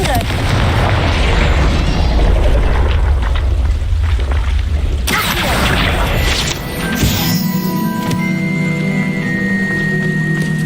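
A Confringo fire spell blast in Hogwarts Legacy goes off as a loud, booming burst, followed by crashing and rumbling debris that settles into ringing tones while a voice speaks over the noise.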